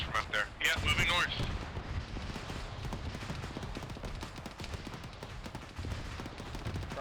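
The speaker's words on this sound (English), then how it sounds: "Got shots coming in from the north now." Distant rifle and machine-gun fire rattles in the military shooter Arma 3, a continuous stream of faint cracks and bursts with voices talking over it.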